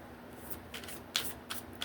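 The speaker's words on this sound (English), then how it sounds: "let's do one more shuffle out of this deck" A deck of tarot cards being shuffled nearby, several soft riffling bursts with short pauses between, quiet and without voices.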